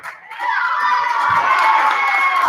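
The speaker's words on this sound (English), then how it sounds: "The crowd getting anxious with each hit." Crowd noise in a gym at a boys high school volleyball match, a tense, swelling roar of many voices and shouts that builds quickly and holds steady.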